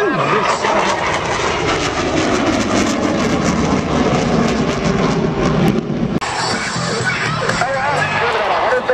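A jet aircraft engine roars loud and close during an air show pitch rate demonstration, its pitch sweeping as the plane pulls up, with crowd noise and a commentator's voice running beneath.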